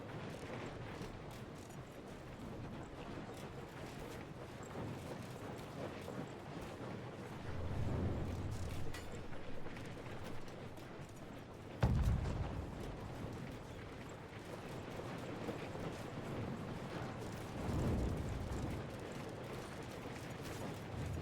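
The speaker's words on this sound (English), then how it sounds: "You don't really want to fight while you're being dumpstered by 3 mortars" Mortar fire in the castle-siege video game Conqueror's Blade, three mortars pounding an area: a few faint, distant booms rise out of a steady low rumble of battle, with one sharper impact midway.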